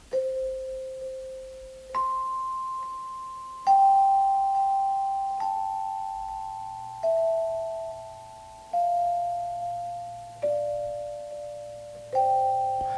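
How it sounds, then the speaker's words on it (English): Celesta sound played on a keyboard: a slow melody of single bell-like, chiming notes, each struck cleanly and decaying softly, about one every two seconds, heard alone. "So the first instrument that I have here is a Celeste sound."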